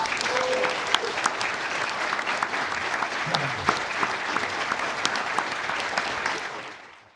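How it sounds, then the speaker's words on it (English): A live audience at a comic convention panel gives a loud, sustained round of applause with scattered sharper claps, fading out at the close. "Can everybody please give a round of applause?"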